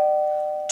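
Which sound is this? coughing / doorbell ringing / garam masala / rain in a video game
doorbell ringing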